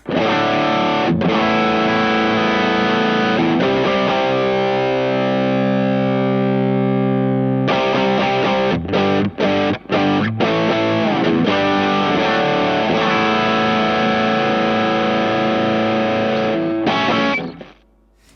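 Electric guitar played through an IK Multimedia X-Drive Super Overdrive pedal, loud and saturated, with chords and single notes. A sustained chord rings out in the middle before choppy, stop-start strumming resumes and fades at the end.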